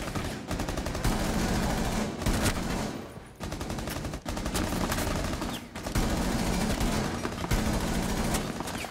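Dense automatic gunfire from the Rainbow Six Siege video game, with rapid bursts rattling almost continuously for several seconds and only brief pauses between strings of shots.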